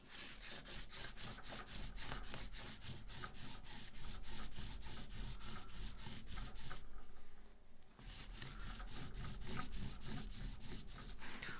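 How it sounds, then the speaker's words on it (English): A bone folder rubbed firmly back and forth over computer paper laid on a carved block print, a fast, rhythmic, close scratchy rasp that pauses briefly near the middle before resuming steadily. "This is computer paper and a bone folder."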